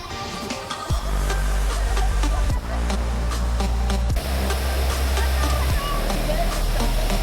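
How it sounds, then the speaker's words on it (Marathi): The Karvash waterfall in Malshej Ghat, swollen by heavy monsoon rain, roars with a loud, continuous rushing and deep low rumble of falling water, with no break. "माळशेज घाटातील सर्वात फेमस वॉटरफॉल म्हणजे कारवाश वॉटरफॉल"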